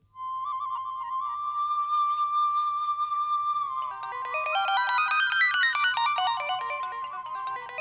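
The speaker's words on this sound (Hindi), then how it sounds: "अरे राजू का फोन आ रहा है।" Mobile phone ringtone for an incoming call: a steady electronic tone for several seconds, then a bright, rapidly warbling melodic phrase, loud and close with no talking over it.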